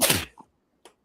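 A single short sneeze bursts out sharply near the microphone, followed by a brief soft sound and a faint click in otherwise near silence.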